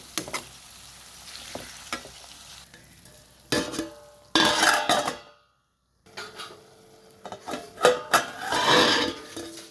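Potato curry being stirred in a pan, intermittent scraping and clinking of a spoon against the cookware over a light sizzle, with a brief silent gap midway before stirring resumes.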